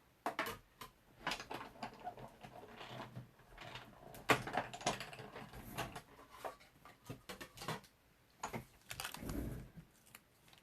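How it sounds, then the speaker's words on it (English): Post-it note fed through a hand-cranked die cutting machine, giving a run of close ticking, clicking and rattling mechanical noises at an irregular pace, fairly quiet, with no talking. "I'll just run that through my die cutting machine."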